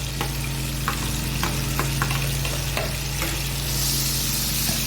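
Finely chopped, crushed onion sizzles with cumin in a hot pan for pav bhaji, a continuous frying hiss broken by scattered clicks and scrapes of a spoon stirring against the metal.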